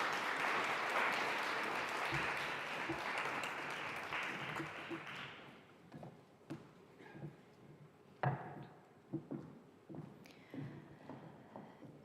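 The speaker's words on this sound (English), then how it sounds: "And another round of applause, please." Audience applause at a gathering on uterine fibroids and legislative change fills the first five seconds, dense and steady, then fades into scattered claps, footsteps and murmuring voices.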